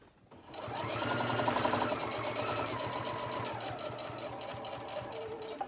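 A sewing machine stitches fabric with a back stitch, its rapid needle clatter running steadily and close after a quick start, fairly quiet overall.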